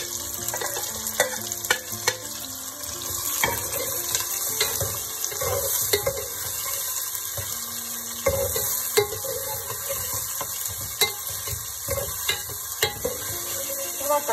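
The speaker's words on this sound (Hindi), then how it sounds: "कटी हुई प्याज को फ्राई करेंगे, गोल्डन ब्राउन प्याज हमें करनी है" Chopped onions fry in a pan for a Delhi-style mutton korma, crackling in a steady close sizzle with scattered pops and stirring scrapes throughout, and no voices.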